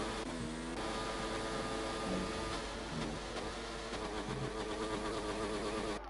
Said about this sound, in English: he's got a rev glitch since that crash